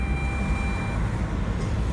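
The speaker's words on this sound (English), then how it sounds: "I love when my car just beeps for absolutely no reason." A steady electronic beep tone holds for about a second over a low rumbling vehicle hum, with no voices.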